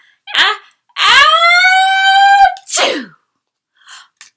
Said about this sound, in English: And another one sneezed away.